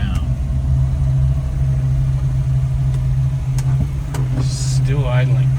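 A 1965 Volvo 122S engine idles high with a steady, loud hum from inside the car, while a person speaks briefly over it near the end.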